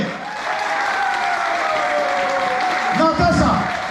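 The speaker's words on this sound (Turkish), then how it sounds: "Just applause." Audience clapping at a Miss Paradiso beauty contest in a hotel club in Alanya, steady and moderately loud, with a host's voice speaking over it and a louder burst near the end.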